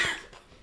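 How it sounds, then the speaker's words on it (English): Single short cough from a person, a sharp burst that fades quickly into quiet room tone. "You just coughed on this one."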